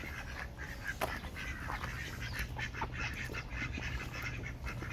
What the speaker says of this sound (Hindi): ये छोटी छोटी बतखें, और यहाँ पे मुर्गियाँ भी हैं